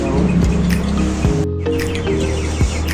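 Several birds call and chirp at Lalakhal in Sylhet, with repeated bright tweets and whistled notes, fairly close and loud, running through the whole stretch with a short dip in the middle.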